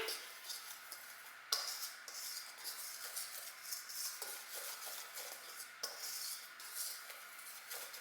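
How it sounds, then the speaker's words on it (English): A whisk scrapes and taps through dry cookie ingredients in a bowl, a quiet, steady rhythmic swishing with occasional light clicks against the sides. "I'm just going to whisk this together and combine"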